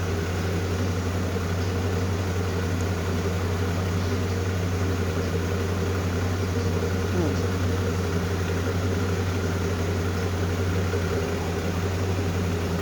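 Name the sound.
5.7 Hemi engine running with Indy Mod Man intake manifold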